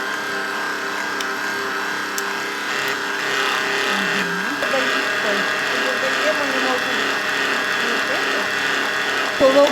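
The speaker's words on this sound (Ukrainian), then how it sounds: "Ставимо кінці і наша машинка хай збиває" Steady mechanical whirring of an electric mixer beating Easter bread dough runs throughout, constant and fairly loud, with faint clicks and a muffled voice underneath.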